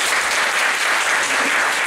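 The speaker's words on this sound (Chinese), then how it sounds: "那我们先再次热烈掌声欢迎罗秉成。" An audience at a legal talk claps warmly to welcome lawyer Luo Bingcheng, a loud, sustained round of applause filling the room without a break.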